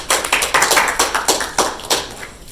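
A lecture hall audience applauds the DJ with a short burst of overlapping claps, fairly close and loud, holding a roughly steady pulse for a couple of seconds with no speech.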